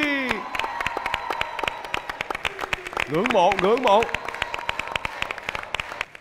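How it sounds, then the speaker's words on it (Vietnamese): Studio audience applause at a Vietnamese talent show, steady dense clapping throughout with a voice speaking over it and a brief musical flourish in the middle. "Những tràng pháo tay của khán giả cũng là tình cảm dành cho Trúc Vy rồi"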